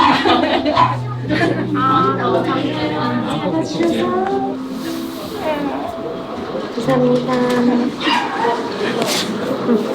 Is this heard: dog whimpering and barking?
yes